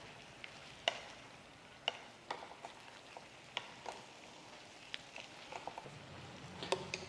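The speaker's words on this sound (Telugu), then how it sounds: "ఈ మసాలాలన్నీ వేసిన తర్వాత మంచిగా మిక్స్ చేసుకుందాం ఒకసారి" Cumin and coriander powders are stirred and fried in a pan with a soft, quiet sizzle and repeated sharp spoon taps and scrapes scattered throughout, close but faint.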